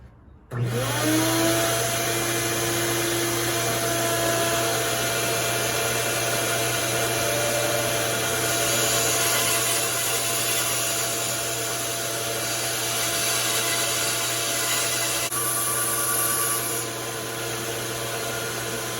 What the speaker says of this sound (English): now I'm gonna take it over to the bandsaw and cut it out